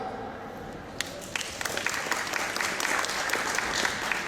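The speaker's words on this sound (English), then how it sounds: "Give her another clap" Clapping breaks out at a horse training session in a round pen, scattered sharp claps building into a steadier patter of a small group, after a quieter opening.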